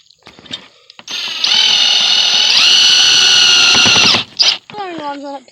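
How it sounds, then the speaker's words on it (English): A power drill bores a hole for a chin spoiler screw on a Ford Crown Victoria, whining loudly and steadily for about three seconds between brief clicks and handling noises, with a short trailing whir afterward. "drill yourself a nice hole, and then you grab yourself the screw that came with your installation hardware"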